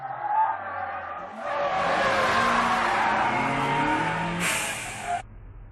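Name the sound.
car braking and turning at high speed, tires skidding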